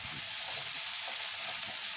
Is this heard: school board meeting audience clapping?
no